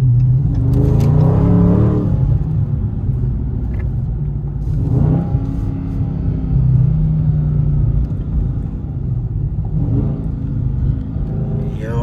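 Dodge Scat Pack in sport mode, heard from the cabin as a deep, loud rumbling V8 that climbs in three rising revs, each settling back to a heavy idle burble.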